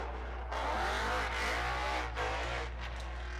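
A naturally aspirated race car engine, supercharger removed, roars and revs at a distance at Orange Show Speedway, pitch rising through the pull, loud and continuous under a low hum.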